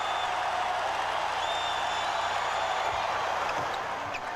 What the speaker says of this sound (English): The crowd starting to really get on him now